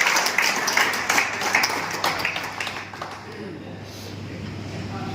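An audience at a Lions Club gathering applauds with dense, lively clapping that holds for about three seconds, then thins out into a low room murmur over a steady hum.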